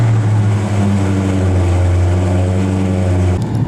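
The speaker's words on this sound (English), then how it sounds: "You hear that exhaust come to life." A 2016 Dodge Charger Scat Pack exhaust rumbles loud and close, a deep, steady throb with layered low tones that holds evenly, then cuts off abruptly just before the end.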